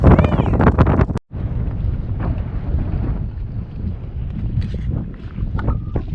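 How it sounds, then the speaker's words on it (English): Strong wind buffets the microphone in a constant roaring rumble aboard a boat anchored off Nicaragua, with a brief dropout and faint voices underneath. "it's still very, very, very windy"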